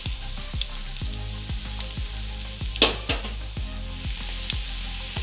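Onions sizzling in a frying pan for veg Manchuria as tomato sauce goes in, a soft continuous crackle with regular faint stirring knocks and a brief louder splash, no talk.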